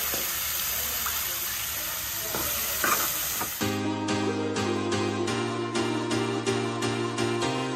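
Whole spices for a tempering crackle and sizzle loudly in hot oil for a home-style Konkan crab curry. The dense hiss lasts about three and a half seconds, then a steady tonal sound takes over.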